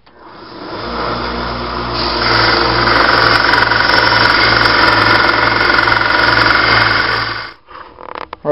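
A 1x30 belt sander grinds a knife blade with a loud, steady abrasive roar over a low motor hum for about seven seconds, then winds down abruptly.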